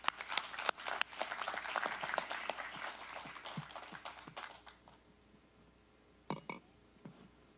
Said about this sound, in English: so just give them another round of applause.